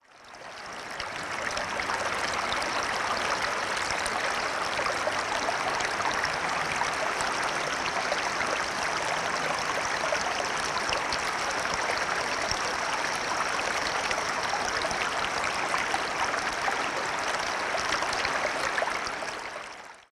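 A babbling stream rushes steadily and continuously, a close, full wash of flowing water with no pauses or voices.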